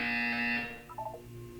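A harsh electronic buzzer sounds in the video game Portal 2. A loud steady tone holds for about half a second, then gives way to a short, fainter warbling electronic chirp.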